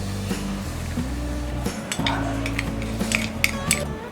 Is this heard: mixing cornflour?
yes